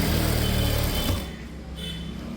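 A domestic sewing machine stitches a seam in a blouse, a close, rapid mechanical whirring that runs for about a second before easing to a quieter hum.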